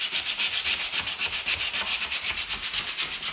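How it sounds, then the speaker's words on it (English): Hand sanding in the corners of an old hardwood floor being refinished: steady back-and-forth rasping strokes in an even rhythm, close and moderately quiet, with no talking. "A little bit of hand sanding."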